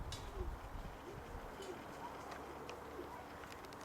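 Pigeons cooing softly at a pigeon loft, low repeated coos under steady outdoor background noise with a few faint chirps.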